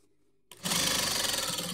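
A sewing machine starts after a short silence and runs in a loud, fast, steady whir while stitching a jean jacket with sherpa lining being taken in.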